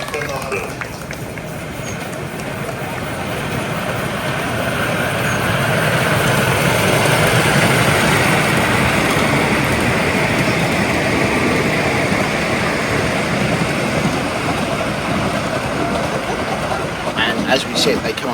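A 3.5 inch gauge South African Garratt model steam locomotive runs on an outdoor model engineering track during a locomotive efficiency competition, giving a steady working rumble that grows louder as it passes, while a commentator talks over it.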